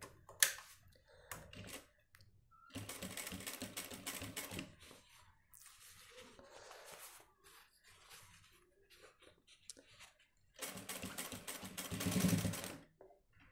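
A sewing machine stitches a shirt seam in two busy bursts, one at the start and a louder one near the end, with quieter handling sounds and pauses between.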